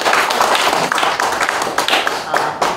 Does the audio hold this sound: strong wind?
no